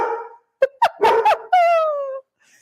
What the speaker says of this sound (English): So sorry about the crazy dogs.